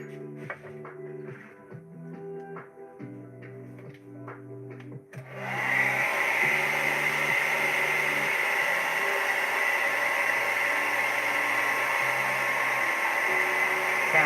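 A hair dryer switches on partway through and runs with a loud, steady whooshing roar, following quieter tonal humming at the start.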